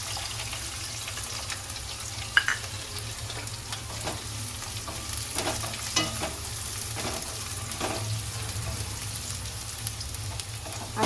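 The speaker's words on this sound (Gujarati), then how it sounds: "હવે એમાં આપણે નાખશું ઓનિયન." Onion frying in a pan with chopped chilies for a pasta dish, a steady hiss with faint stirring clicks and a brief clink, close and continuous, with no voices.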